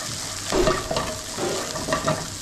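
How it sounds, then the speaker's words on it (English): Lamb pieces crisping in a frying pan for gnocchi, a steady close sizzle with brief stirring scrapes and clatters spread through, no talking. "Lamb's crisping up."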